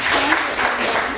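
An audience at a film premiere Q&A in New York breaks into brief, dense applause for one of the directors, clapping continuously.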